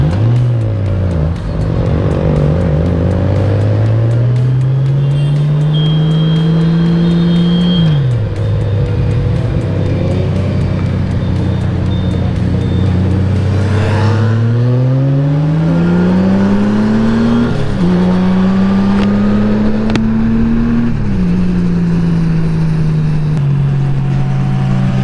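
A Honda Goldwing GL1800 motorcycle engine drones loud and steady while riding, its pitch climbing and dropping through repeated accelerations and gear changes, with constant wind rush throughout.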